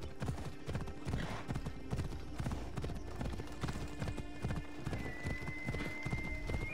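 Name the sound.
horse hooves in video game Assassin's Creed Odyssey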